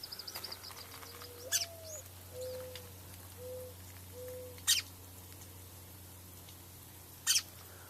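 A mother bird nesting inside a ladder gives a few faint calls, with three sharp louder chirps spaced a few seconds apart over a low steady background hum.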